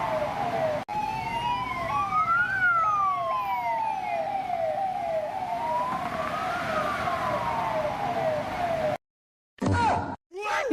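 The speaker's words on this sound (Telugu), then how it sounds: "అంబులెన్స్ వచ్చినట్టుంది" An ambulance siren sounds continuously, first with rapid yelping sweeps, then with long rising and falling wails, loud and near, before cutting out; brief muffled sounds follow.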